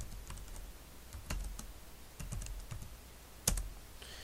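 Clicky keys on a computer keyboard are typed in short uneven bursts while router configuration commands are entered, with sharp isolated keystrokes close by and no talking.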